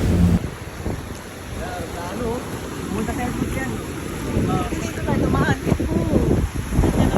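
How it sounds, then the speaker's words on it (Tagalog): At Baybay beach in Roxas City, a sea breeze buffets the microphone with steady wind roar while waves wash in the background, and a voice talks over it. "I feel the sea breeze, look at the waves"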